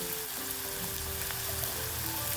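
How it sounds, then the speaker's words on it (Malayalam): Onions with a pinch of salt sautéing in a pan, a steady soft sizzle with faint stirring underneath, continuous and fairly quiet throughout, no talking. "നന്നായിട്ട് ഇളക്കി കൊടുക്കാം"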